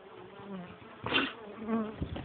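A dense, droning hum of many honey bees buzzing close by inside a hive after a puff of smoke, rising and swelling in brief surges with a few sharper bumps near the end.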